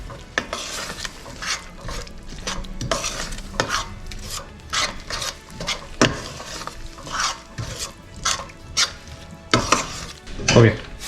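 A thick parotta salna stew sizzles and bubbles steadily in a pan, with repeated scraping and stirring strokes against metal throughout.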